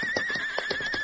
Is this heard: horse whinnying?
yes